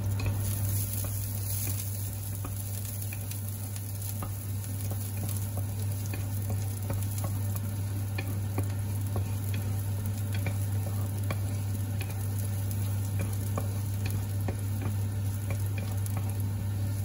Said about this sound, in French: Ajoutez les morceaux d'ail et le faire sauter jusqu'à ce que tu sens l'odeur.